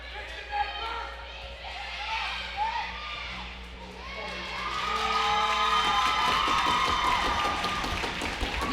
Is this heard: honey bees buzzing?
no